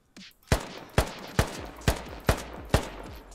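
Gunfire in a military shooter video game: six sharp shots in a steady rhythm, about half a second apart, each with a short echoing tail, heard alone without talk.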